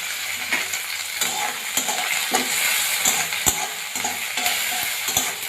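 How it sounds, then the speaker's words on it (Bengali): Chopped tomatoes sizzle in a hot pan for an egg tadka while a utensil stirs and scrapes them, with irregular clinks and taps over the steady frying hiss. "টমেটোটা দিয়ে আমি বেশ কিছুক্ষণ নাড়াচাড়া করে নেবো"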